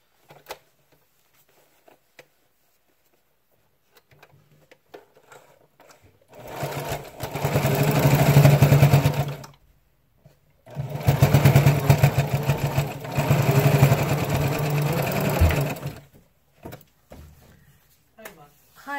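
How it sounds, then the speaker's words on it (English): Sewing machine stitching a fabric face mask, running back and forth to lock the seam, in two sustained steady bursts of several seconds each with a short pause between, close and fairly loud, with brief faint knocks before and after. "make sure you seal the stitching by going back and forth"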